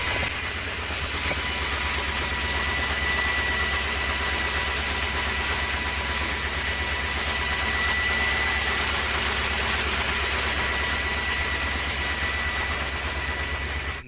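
A KAZ 4540 truck engine, freshly started after a hose replacement, idles steadily and loudly with a deep, constant rumble and faint vibration, holding an even pitch throughout with no talk.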